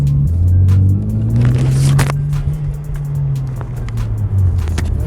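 A BMW E90 with an N55 engine pulls away on a cruise, its exhaust a deep steady drone that climbs in pitch as it accelerates, heard from inside the car with rattles and road noise.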